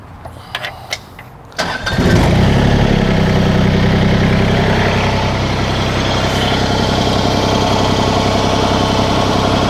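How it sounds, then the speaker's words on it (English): A few clicks and a brief crank, then an LS LB1107 backhoe tractor engine rumbles to life and settles into a loud, steady idle. "I'm gonna fire the tractor up."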